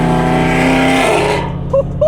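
A loud Lamborghini Temerario with a Voodoo exhaust roars and revs up close, its pitch rising before it fades away, followed by brief faint voices.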